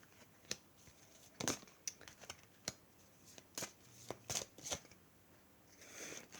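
Oracle cards being shuffled by hand during a French new-moon card reading: a series of crisp, brief riffling and snapping bursts at an uneven rhythm, close and fairly quiet, with no talking.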